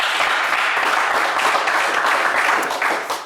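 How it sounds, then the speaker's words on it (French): A TV game show studio audience gives a burst of loud, dense clapping, holding steady with slight swells before easing off at the close. "On vous applaudit bien fort."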